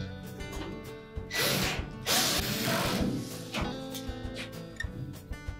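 Screws are driven in to secure the top of a Whirlpool washer back onto its cabinet, a close power-driver whir with ratcheting in a few bursts, with faint clicks between them.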